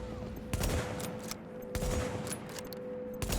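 Automatic heavy-weapon fire in the video game The Division, a few loud bursts of shots over a steady game background hum, no talking.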